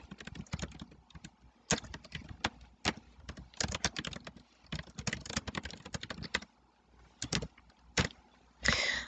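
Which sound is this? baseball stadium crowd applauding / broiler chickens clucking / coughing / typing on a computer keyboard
typing on a computer keyboard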